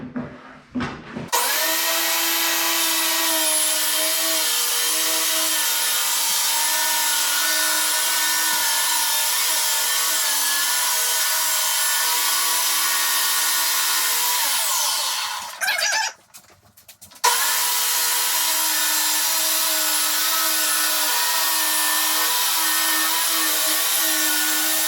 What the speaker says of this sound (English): The blade's set to cut at 15 inches.